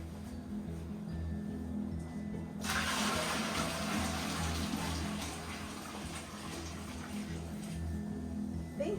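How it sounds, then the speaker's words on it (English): Hot apple juice poured into a bucket during home apple processing: a sudden gush of liquid begins partway through and continues as a steady close splashing stream over a low background hum. "help me pour the hot juice into the bucket"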